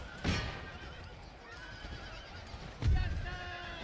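Horses whinny in a battle in the video game Empire: Total War, two faint distant neighs rising out of a low rumbling battlefield bed, about two and a half seconds apart.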